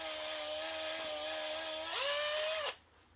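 A power drill whines steadily at high speed while reaming out a pen tube, its pitch rising briefly near the end before it cuts off abruptly.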